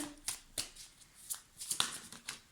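Cards shuffled for a tarot-style reading: a quick series of close, papery riffles and soft slaps with a loose, uneven rhythm.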